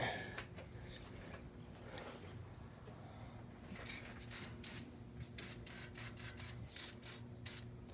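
Lubricant sprayed onto a hearse's tight door hinges, heard as a series of short, close hissing bursts in the second half, each one a separate puff over a low steady hum.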